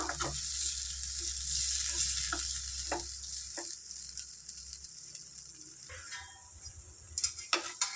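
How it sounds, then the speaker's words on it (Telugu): A soft sizzle of native tomatoes cooking in a pan, with a low hum underneath and a few sharp utensil taps against the pan. "దీన్ని చక్కగా ఉడికించుకుందాం టమాటానే త్వరగానే ఉడుకుతుంది"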